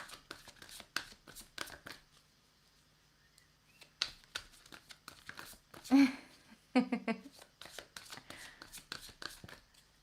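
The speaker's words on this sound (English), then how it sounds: "I have the angel message deck. All right, I'm going to put 3 cards down." Angel message oracle cards are shuffled and laid down one by one as brisk papery flicks and soft slaps, with a couple of louder snaps near the middle, recorded close and without talk.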